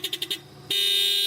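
A Mazda MX-5 car horn gives four quick short toots, then a steady sustained blast, thin and bright, close and loud with no talk over it.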